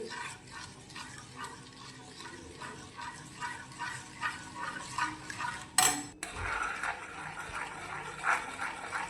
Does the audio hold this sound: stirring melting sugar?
yes